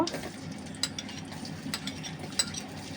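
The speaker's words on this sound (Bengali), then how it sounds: "এখন সরিষার তেলটা গরম হয়ে গেলে এর মধ্যে আমি এই যে রসুন কুচিটা দিয়ে দিব" Chopped garlic frying in hot mustard oil for a green mango pickle, a steady soft sizzle with a few sharp clinks of a utensil against the pan.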